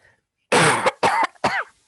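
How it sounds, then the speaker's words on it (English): Three harsh coughs in quick succession, close and loud, separated by brief silences, with no talking. "I'm going to have a good cough here"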